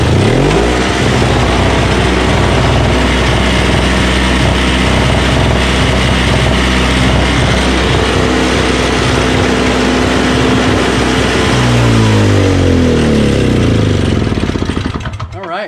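A Craftsman single-stage 21-inch snowblower with a 5 HP Tecumseh engine runs loud and close in a rapid, rough chugging rhythm. It keeps going steadily before the sound shifts and cuts off near the end.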